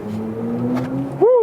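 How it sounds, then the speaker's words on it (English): A BMW iX xDrive50 electric SUV accelerates briskly from a standstill to 60 km/h, its motor whine climbing in pitch over about a second before a sharp rising swoop at the end, with speech overlapping. "That was 0 to 60 kilometers an hour. Wow, that went quick."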